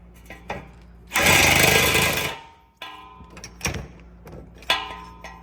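A 13 mm socket on an extension loosens the exhaust bracket bolt of a Dodge Challenger, giving a loud second-long burst of power-tool rattle followed by a few short metallic clicks and clanks close by.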